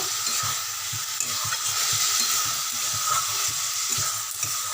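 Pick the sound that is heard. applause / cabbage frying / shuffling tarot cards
cabbage frying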